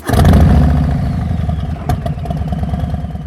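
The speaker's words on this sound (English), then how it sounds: "The moment I fired it up, however, I noticed the size of its personality." A Harley-Davidson Low Rider S motorcycle with its 114 engine fires up: a loud burst of cranking and catching, then a deep, lumpy idle that pounds and shakes close by, with one sharp mechanical clack partway through.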